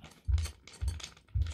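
Screws are tightened while assembling an Athletic Works home exercise bench, making three close, quiet ratcheting clicks at a steady pace, each a short low mechanical grind.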